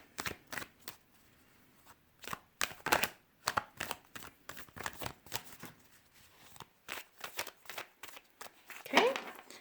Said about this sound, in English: this is already a pre-shuffled deck, but I am going to just reshuffle it.